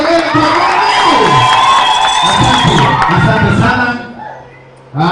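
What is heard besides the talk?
congregation cheering and shouting joyfully in church service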